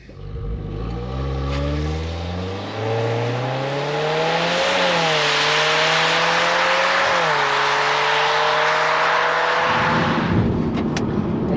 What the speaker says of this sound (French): Bon, maintenant, je vais tester l'accélération.